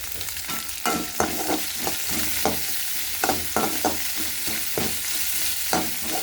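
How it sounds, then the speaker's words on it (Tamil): Chopped onions sauté with salt in a hot pan for vegetable upma, giving a steady close sizzle broken by a series of sharp spatula scrapes and stirs at an uneven rhythm. "உப்பு போடுறதுனால சீக்கிரமே வெங்காயம் வதங்கிடும்"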